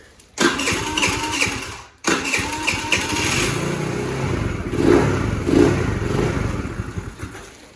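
Small Taotao 50cc scooter engine cranks and catches, then settles into a steady, fairly loud idle with a slightly uneven low beat and a couple of brief revs.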